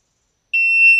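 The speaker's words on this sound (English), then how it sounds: "So test beep." A single sharp, high-pitched electronic shot timer start beep at a shooting range starts abruptly and holds for about half a second, loud and close.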